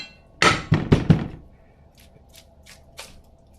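Two pounds of raw ground beef is dumped into a pan with a heavy close thunk and a few squishy thuds, followed by faint light clicks and taps.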